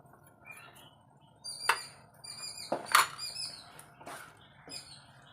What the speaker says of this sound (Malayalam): പൂത്താങ്കീരി എന്ന് പറഞ്ഞൊരു കിളി ഇഷ്ടം പോലെ ഉണ്ട് അതിൻ്റെ ഒച്ചയാണ്